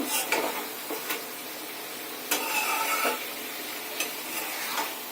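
Bay leaves dropped into hot oil in a pan while chicken cooks, giving a steady close sizzle with occasional stirring clatters and utensil knocks.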